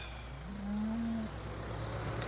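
A cow in a farming video game gives a single drawn-out low moo, rising and holding steady before breaking off, moderately loud over quiet background ambience with no talk.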